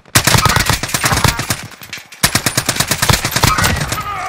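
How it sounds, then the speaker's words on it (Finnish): Rapid bursts of automatic gunfire in a shooter video game, loud close rattling volleys with a short pause midway before firing resumes. "Tuolta ammutaan."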